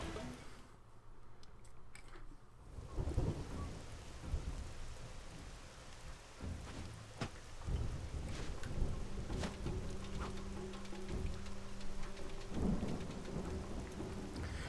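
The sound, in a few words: rain and thunder in Xenoblade Chronicles X video game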